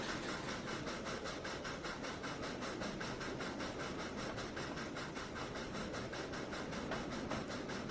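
A train rolls steadily down the track in the Trainz 2019 railway simulator, on the C&O Hinton route, with a continuous loud rumble and a fast, regular clickety-clack of wheels over rail joints throughout.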